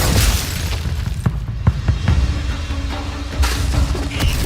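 A Glacius ice spell cast in Hogwarts Legacy lands as booming impacts with sharp cracking, shattering hits scattered over a few seconds against a rumbling game backdrop.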